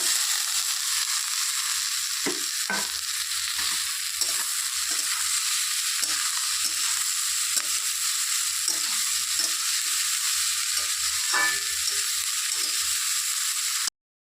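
Pieces of taro frying with onions in a pan make a loud, steady sizzle throughout, broken by repeated scraping stirs, close up and with no voices.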